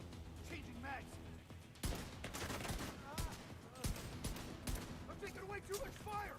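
Gunfire in The Division 2: sustained close rifle and automatic fire, with sharp cracking shots standing out over a busy battle din, and speech mixed in.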